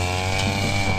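Three grass cutters run together on a calamansi farm, a steady droning engine whine held at constant pitch, loud and close, with no speech.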